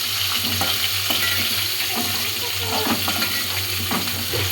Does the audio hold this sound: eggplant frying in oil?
yes